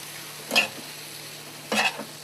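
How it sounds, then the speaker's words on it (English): Strawberries with sugar and cornstarch stirred over heat, two brief scraping spoon strokes about a second apart over a faint, quiet background hum, with no talking. "I'm going to lower the heat a little bit, and I'm going to stir that up."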